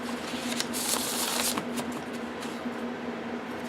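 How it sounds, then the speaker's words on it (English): Thin-stock Devas of Creation tarot cards are shuffled by hand up close, a quick flurry of papery flicks and riffles over a faint steady hum. "give it a couple more shuffles."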